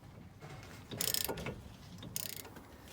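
A ratchet wrench loosens 15mm rear suspension bolts with two quick bursts of close, rapid clicking, separated by a short quieter gap.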